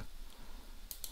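A computer mouse clicks twice on an apply button in quick succession, faint against a quiet room hum.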